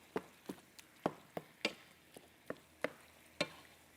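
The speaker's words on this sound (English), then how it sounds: "We just want to brown up this beef." Ground beef browns in a pan for enchiladas, with a faint sizzle under a series of sharp spatula scrapes and taps at an uneven pace, close and quiet.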